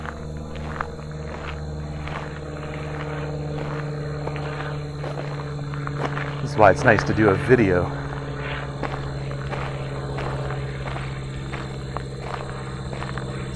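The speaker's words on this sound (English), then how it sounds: "Oh, we got two airplanes." A steady, droning hum of two airplanes flying overhead fills the background throughout, while a person talks over it nearby on a rail trail hike in Ontario, Canada.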